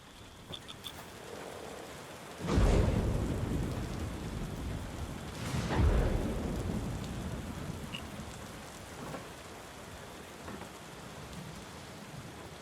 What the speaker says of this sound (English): Seems we're in for a rainy night.